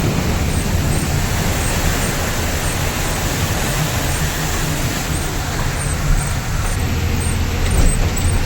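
Road traffic after heavy rain, a dense continuous wash of vehicle noise and tyre hiss, loud and unbroken, with a faint high whine running through it.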